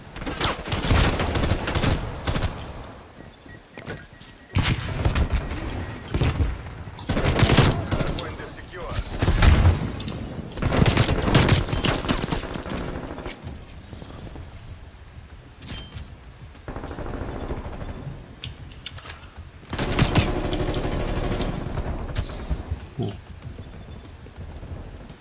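Bursts of AUG gunfire sound in the video game Black Ops Cold War, with several loud volleys and booms over constant game sound effects.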